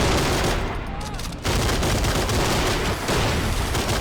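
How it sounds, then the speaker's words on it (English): In the toy-soldier war game Army Men of War, a Nebelwerfer rocket launcher fires in a loud, dense barrage on a sandy beach fortress, a continuous roar of blasts with a brief dip before it surges again. "Oh, another good shot of the Nobelwerfers. They shoot like mini bombs, really cool."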